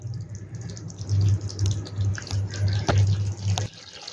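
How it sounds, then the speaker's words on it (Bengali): Water poured into the simmering jackfruit kofta curry masala in a pan, a close steady gush with bubbling and a low hum, stopping abruptly near the end. "এইবার এতে জল দিয়ে নেব"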